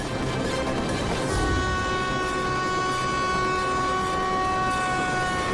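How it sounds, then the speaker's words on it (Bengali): A cartoon train sounds a long, steady horn over continuous rumbling and rattling along the line, loud and close throughout. "এই লাইনের সামনে থেকে ট্রেন আসছে।"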